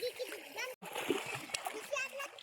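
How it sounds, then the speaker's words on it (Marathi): Water splashes as children play and swim at a river or pond spot on a family outing, with lively splashing mixed under constant chatter and children's voices. "हे बघा आमचं मल्हार गडी इथंच बाजूला बसून खेळाले पाण्यात."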